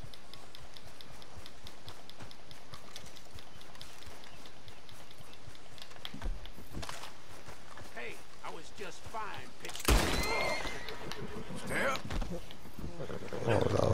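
A horse in the video game Red Dead Redemption 2 walks along with a steady, soft clip-clop of hooves while someone talks over it almost throughout.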